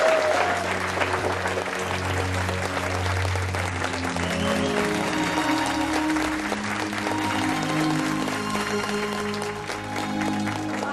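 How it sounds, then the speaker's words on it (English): Wedding guests break into sustained applause and cheering for the newly married Mr. and Mrs. McCormack, a dense, loud roar of clapping with music or crowd murmur underneath throughout. "Give a round of applause to Mr. and Mrs."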